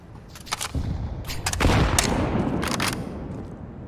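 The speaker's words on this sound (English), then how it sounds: "Throwing a grenade" A grenade detonates in CS:GO as a heavy boom with a rumbling tail, surrounded by several sharp gunshot-like cracks in a busy match.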